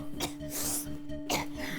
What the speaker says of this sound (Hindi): इतनी खांसी कैसे लगी आपको?